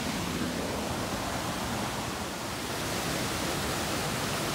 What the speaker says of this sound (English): So here's the top of the falls.